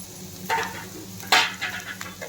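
Onions and green chilies frying in a pan for street-style gobi manchurian, a brief close sizzle with a couple of stirring scrapes, no voices.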